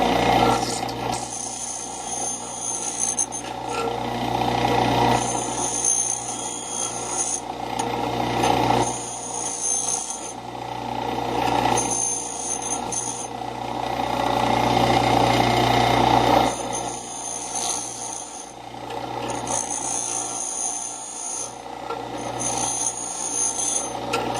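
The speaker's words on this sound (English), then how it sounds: "We're going to clean them up here on the old bench grinder." An old bench grinder cleaning up freshly cut metal pieces for a chainsaw grinder build, its steady motor whine broken by repeated rasping grinding passes that come and go in bursts of a few seconds, close by and fairly loud.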